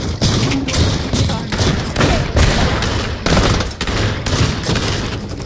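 Gunfire in the Pavlov VR game mode Trouble in Terrorist Town, dense loud rapid shots and thumps layered over constant battle noise, close up and nearly continuous.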